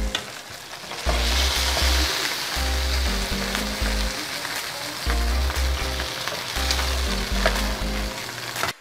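Meatballs of ground meat frying and searing in a pan give a steady, close crackling sizzle throughout, with a low rhythmic pulse of background music underneath and no talking.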